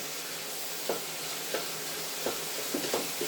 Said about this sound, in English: Frying off and it's smelling amazing already.